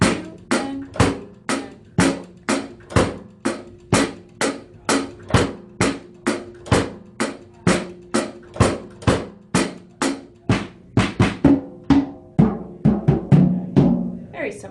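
Simple grooves played on a drum kit during a music lesson, loud and close, with a steady run of sharp, evenly spaced hits that turn into a quicker fill near the end.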